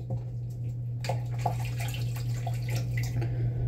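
Hot water runs from a tap in a soft, low trickle that picks up with light splashes and drips after the first second, over a steady low hum, with no talking.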